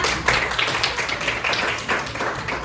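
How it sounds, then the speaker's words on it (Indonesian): A classroom full of students clapping steadily, a dense and even patter of applause with no talking over it. "Tepuk tangan untuk Alexa."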